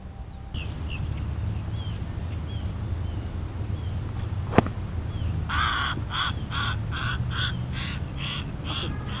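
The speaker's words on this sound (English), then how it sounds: "Bird scared the crap out of me." Crow caws ring out in a steady series of about eight loud calls over windy outdoor noise during a round of golf, after a single sharp knock.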